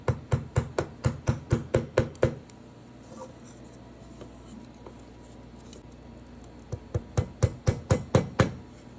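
Sharp wooden taps as acrylic pieces are pressed into slots in a wooden frame, two quick bursts of about a dozen close, evenly spaced knocks each, separated by a quiet pause with only faint handling.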